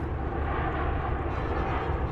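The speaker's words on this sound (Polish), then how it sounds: "samoloty lądują, proszę zobaczyć" Low roar of an airplane coming in to land through fog near an airport, a steady loud engine drone that holds close and constant throughout.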